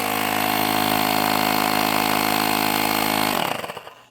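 A VIL portable tire inflator air compressor runs with a loud, steady, buzzing motor drone close by, then winds down and sputters to a stop near the end.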